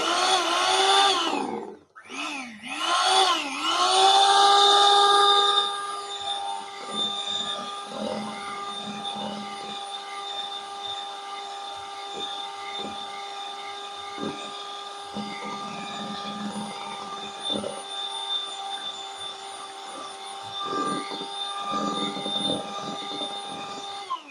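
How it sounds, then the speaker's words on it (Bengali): Electric beater whirring through a mango ice cream mixture: a few quick revving starts, then a steady, close, high-pitched motor whine that holds with a slight wobble as the blades work the liquid. "আমি এই বিটারটা দিয়েই একটু মিশিয়ে নিচ্ছি"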